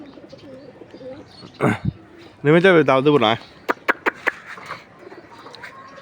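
Domestic pigeons coo softly in a loft in the background while someone talks nearby and another voice chimes in, with a few sharp clicks and taps toward the end.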